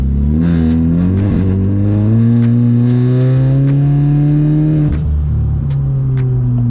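A Volkswagen Scirocco running a pop-and-bang map accelerates hard on a road drive, its engine note climbing through two gear pulls with a brief dip between them. Sharp crackles and pops sound over the loud, close engine.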